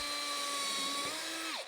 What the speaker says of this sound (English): I'm just going to drill a hole at about a 45-degree angle.